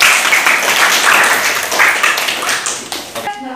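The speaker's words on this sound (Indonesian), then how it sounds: "Tepuk tangan sekali lagi." Steady clapping from a classroom full of students fills the room, a dense wash of hands that continues evenly before breaking off just before the end.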